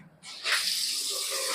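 Strong gush of water from a tap at high pressure, starting abruptly after a short quiet moment and then hissing steadily and loudly to the end.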